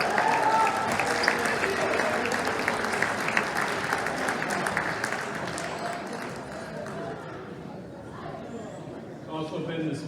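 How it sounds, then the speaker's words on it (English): A crowd at the 2019 Dimond High School football banquet gives sustained applause for academic award winners. The clapping thins out gradually, and talking returns near the end. "One more round of applause."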